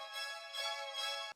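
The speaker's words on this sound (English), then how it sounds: "This kind of like pad, I think." A soft synth pad from an FL Studio beat swells gently in two or three faint, airy waves, sustained and alone.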